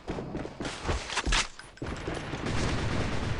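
Video game gunfire in a battle royale match on a Singapore server, a dense crackle of shots with a louder burst near the middle, then a steady rumble of firing and movement.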